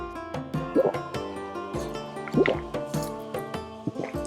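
Water drips from a palm-leaf drip setup in a farm garden, a run of distinct, close, fairly loud plops and splashes landing at an irregular rhythm, with no voices over them.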